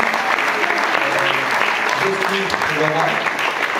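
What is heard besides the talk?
applause for students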